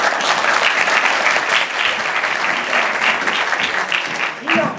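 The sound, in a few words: audience applause at a stage show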